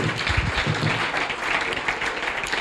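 Congregation applauding at a Sunday church service, a steady, dense wash of clapping that fills the space throughout, fairly loud and continuous with no clear pauses.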